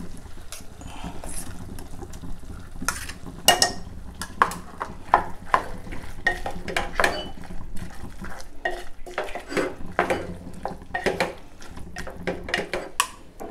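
Ground coconut masala paste is stirred into mutton in a cooking pot, with repeated scraping and clinking of a spoon against the metal pot and a faint sizzle underneath, close and fairly loud.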